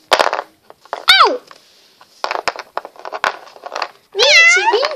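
A cat meows several times, bright rising-and-falling cries near the start and a longer loud one at the end, with bursts of talk and clatter between them.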